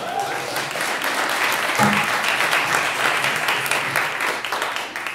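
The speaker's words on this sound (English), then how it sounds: "A round of applause for that one." An audience at an indie game awards event applauds steadily for several seconds. The dense clapping fills the space evenly from start to end.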